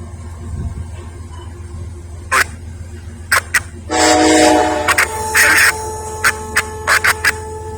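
An Amtrak Northeast Regional train with locomotive number 13 pulls into the Lynchburg, Virginia station, sounding a loud, close horn blast among several short, bright tonal pulses over a low rumble.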